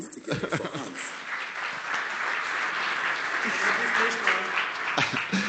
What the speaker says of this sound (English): So let's give Hans an applause.